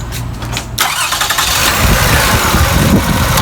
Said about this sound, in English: Go ahead and start it.